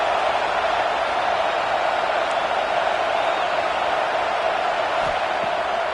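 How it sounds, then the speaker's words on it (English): A stadium crowd in a college football video game roars steadily as fans urge their defense to hold in the red zone, a dense, even wash of cheering noise with no breaks. "this crowd imploring its defense to stand firm"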